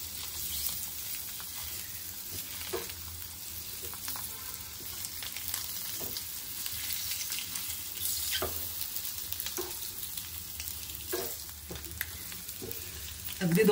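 Eggs fry in masala in a pan, a continuous close sizzle with intermittent scraping and stirring strokes, steady and moderately quiet, with no talk.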